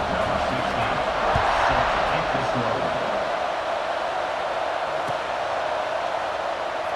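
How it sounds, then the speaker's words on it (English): Dense stadium crowd roar from a college football video game, a steady wide wash of cheering that swells slightly early on, heard just before a kickoff with a commentator's voice over it. "They're set to kick it off, and this crowd now ready to get behind them."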